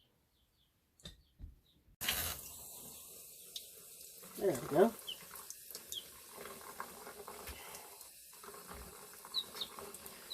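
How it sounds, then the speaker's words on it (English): Warm water runs from a tap while a baby chick with pasty butt is washed under it, a steady rush of flow starting abruptly with splashes and a brief chirp, and a person speaks briefly over it. "I'm going to have to do this one under the warm water."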